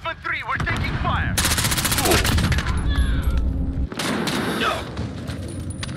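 Rapid automatic gunfire in Call of Duty Modern Warfare rattles in long, loud, dense bursts, broken by short pauses and a few heavier thumps.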